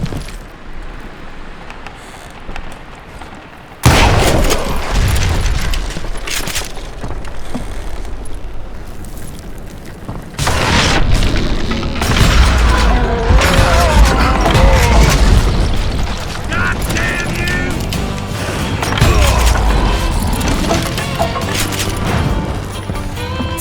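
Dynamite charges blowing up in the Western shooter Call of Juarez: Gunslinger, two heavy booming blasts a few seconds apart, each followed by sustained rumbling debris and crashing, loud and close with a quieter lead-in.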